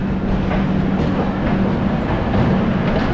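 A passenger train rolls along after departing Katpadi railway station, a loud steady rumble of wheels and carriages with faint rhythmic clatter and a low hum throughout.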